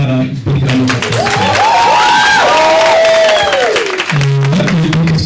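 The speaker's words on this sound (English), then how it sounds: "Let's give them another big round of applause." A loud crowd at a Youth Day celebration claps, cheers and whoops for learners, with high shouts and a sustained roar of applause.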